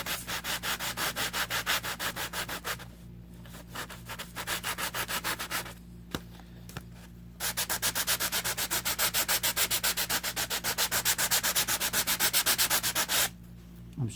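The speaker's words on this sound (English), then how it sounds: "start with 100 grit sandpaper, sanding in the direction of the grain" Rhythmic back-and-forth strokes of 100 grit sandpaper along the grain of wood, a steady scratchy rasp repeated in bursts with short pauses between, close and fairly loud.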